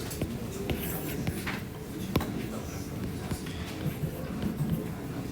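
Faint scratchy strokes of writing on a board during a calculus class, soft intermittent marks with occasional sharper taps over a low room hum, no talk.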